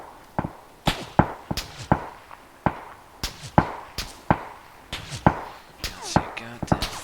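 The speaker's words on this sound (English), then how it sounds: "There's others shooting at me" Gunfire in PUBG, a battle royale shooter: about fifteen sharp, separate shots and cracks at irregular intervals, some close and loud, others more distant, with faint speech in the background.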